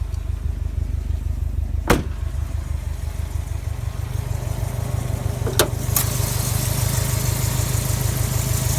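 Stock Subaru STI with a 2.5 liter turbocharged engine and cold-air intake idling steadily at close range, a low, even rumble running throughout with a couple of brief sharp clicks.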